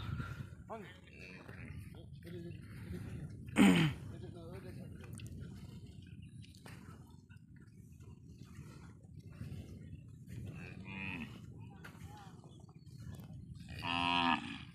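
Cattle on a Padma River sandbar near the Bangladesh–India border give a loud moo and later another drawn-out one, with a faint background murmur and a person talking throughout.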